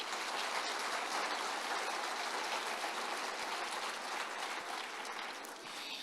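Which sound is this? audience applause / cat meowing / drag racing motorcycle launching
audience applause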